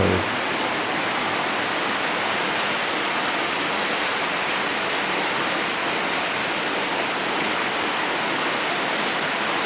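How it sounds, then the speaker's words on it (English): Steady, loud rush of running water inside the Netherton Canal Tunnel near an air shaft, a continuous broadband roar echoing in the enclosed space, no voices. "can hear a lot of water, but I don't know where it's coming from"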